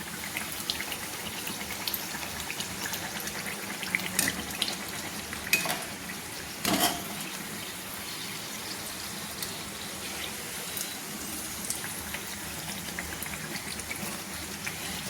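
Chana dal puri frying in hot oil and being turned with a slotted spoon, a continuous soft sizzle and bubbling with a few faint clinks of utensil against the pan.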